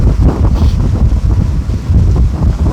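Steady, heavy wind buffeting the microphone on Georgian Bay near the Franklin and Bustard Islands, a constant low rumble with gusty surges and no voices.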